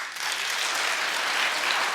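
A television talk-show studio audience breaks into loud, sustained clapping that fills the room without pause.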